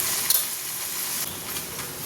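Spiced masala paste of salt, turmeric, Kashmiri chilli powder and cumin sizzles steadily in a pan while cooking stuffed pointed gourd dorma, a continuous close hiss with faint stirring clicks.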